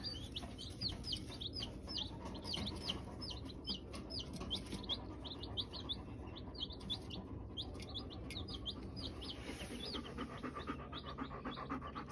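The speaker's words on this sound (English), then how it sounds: "Got some baby chicks." Baby chicks cheep in a constant, busy chorus of high, rapid peeps, many birds close together, over a low background rumble with no talking.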